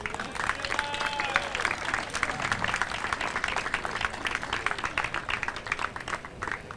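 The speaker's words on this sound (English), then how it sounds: "Another round of applause, please, for Miss Oliver." Outdoor crowd applause at a ballpark opening and dedication ceremony, a steady dense patter of many hands clapping continuously throughout at moderate distance, with faint voices mixed in.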